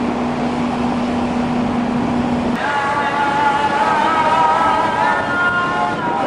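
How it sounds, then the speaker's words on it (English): Muslim call to prayer echoing from minarets across Istanbul, a distant wavering sung voice rising over steady harbour and traffic rumble heard from a cruise ship, with a low sustained hum cutting out midway. "What you're hearing is the Muslim call to prayer"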